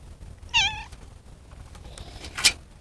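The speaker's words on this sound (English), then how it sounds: "here comes my cat" A house cat meows clearly and close by, one bright wavering call, then a second shorter, sharper meow a couple of seconds later over quiet room tone.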